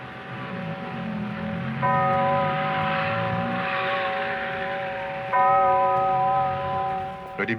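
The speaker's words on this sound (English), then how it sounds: "it's just the bell." Two sustained bell tones from the film score of Bob Le Flambeur ring out in turn, each swelling and slowly decaying over a low droning background.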